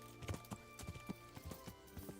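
A horse's hooves clip-clop in a steady walking rhythm in the medieval game Kingdom Come: Deliverance, close and moderately loud, each step a distinct knock over a faint background hum.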